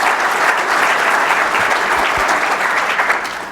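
Audience at a Madison County, Tennessee Reagan Day dinner breaks into loud, sustained applause, a dense wash of clapping filling the room throughout.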